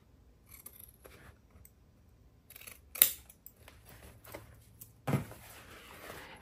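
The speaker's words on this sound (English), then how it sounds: "we're gonna take our scissors and we're going to cut this square out" Quiet snipping of scissors through fabric, a few soft cuts with one sharper snip near the middle and another toward the end, close by.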